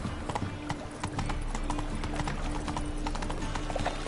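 Roach, a horse in a video game, trots with a steady, close clip-clop of hooves that runs throughout, over a low background bed of game sound.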